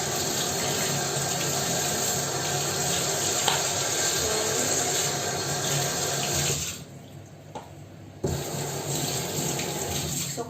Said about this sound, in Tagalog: hugasan ko broccoli